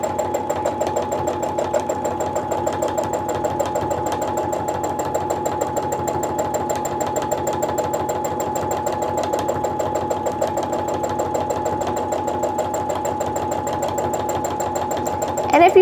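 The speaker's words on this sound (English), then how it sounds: "do a couple stitches in place, get your speed where you want it." A sewing machine runs steadily through free motion quilting, a constant fast mechanical whir and rapid needle chatter that holds an even speed for the whole stretch and stays close and fairly loud, with no talk over it.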